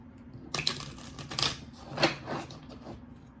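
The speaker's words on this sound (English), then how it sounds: "One more shuffle." Tarot cards are shuffled in a quick run of close, crisp riffling rattles lasting about two seconds, with near silence on either side.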